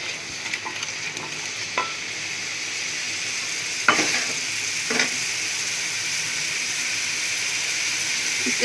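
Chopped onion frying in ghee gives a steady, close sizzle and hiss, with a few scraping clatters of stirring, and no one talking.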